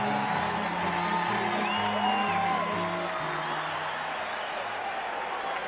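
A big baseball stadium crowd at a World Series game cheers and applauds in a steady broad roar, with a commentator's voice talking over it throughout.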